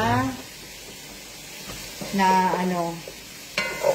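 Squash going into a hot pan for pinakbet, with bursts of sizzling and stirring scrapes; someone talks over much of it, and a fresh hiss flares near the end.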